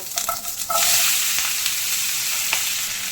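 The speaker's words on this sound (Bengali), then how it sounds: "এবার দিয়ে দেব টমেটো কাঁচা লঙ্কা আলু একসাথে দিয়ে দেব" Tomatoes, green chillies and potatoes drop into hot oil with a mustard seed tempering, setting off a steady loud sizzle and some stirring scrapes, with no talk.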